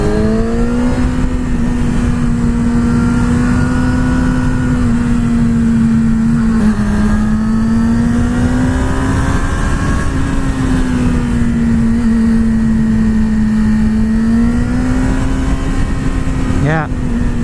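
A 2020 Yamaha R6 sport motorcycle holds a loud, steady engine drone while being ridden, its pitch rising and falling gently with throttle and a thin whine running over the top throughout.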